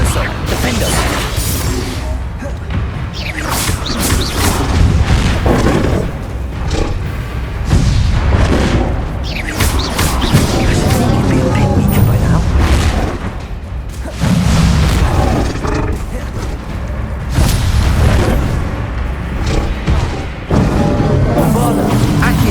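Spell blasts booming and crashing in Hogwarts Legacy combat, a dense run of loud explosive bursts and thuds repeating every second or two throughout, with shouted incantations over the action.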